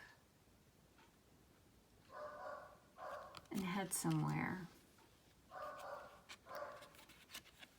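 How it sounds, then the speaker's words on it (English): A dog barks a few times somewhere in a house, muffled and mid-distance, in short bursts between and under a person talking. "You can probably hear my dog barking in the background."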